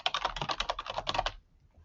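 Quick burst of typing on a computer keyboard, a rapid run of close, crisp key clicks lasting just over a second before stopping, with no talking.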